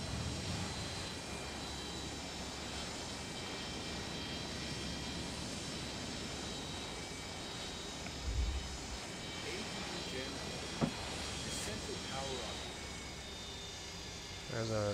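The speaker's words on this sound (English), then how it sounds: "There's a Delta aircraft taking off." A Delta airliner takes off in the MSFS flight simulator, a steady broadband engine roar holding through the whole stretch with a brief low thump partway along, under a faint voice.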